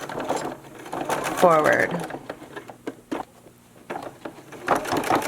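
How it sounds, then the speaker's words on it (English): A sewing machine back stitching a fabric face mask, running in short rapid bursts with a brief rising whine. A voice speaks over and between the stitching. "Keep sewing and remove the needles as you go."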